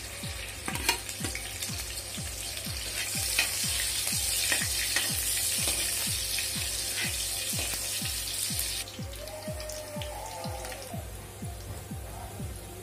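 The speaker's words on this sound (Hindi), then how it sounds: "अब मैं इसी तेल में जीरा डाल देती हूँ, तेज पत्ता," Cumin seeds, bay leaf and green chillies crackling in hot oil for an aloo parwal curry, a busy close sizzle with dense popping and a steady rhythmic tapping of stirring underneath, no talking.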